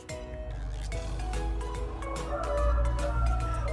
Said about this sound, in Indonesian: Suara burung berkicauan menyambut mentari pagi yang cerah.